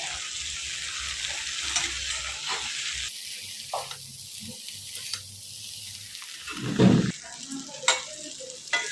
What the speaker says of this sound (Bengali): এর উপরে আমি শাকটা এবার দিয়ে দিচ্ছি। দিয়ে এবার ভালো করে একটু মিশিয়ে নেব।